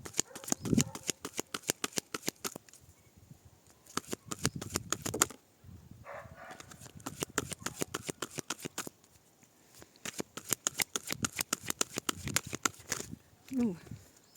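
Oracle deck cards being shuffled and cut by hand, a long run of rapid riffling flutters in several bursts with brief pauses between, close and fairly loud, with no talking over it.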